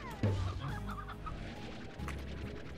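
Chickens cluck and squawk in the Slime Rancher video game, a sharp burst near the start followed by busy overlapping clucks over a dense background of game sounds.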